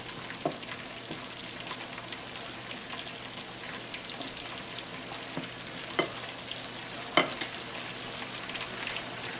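Potatoes frying on a large stovetop burner give a steady, moderately quiet sizzle, with a few faint clicks and stirring scrapes scattered through it and no talking.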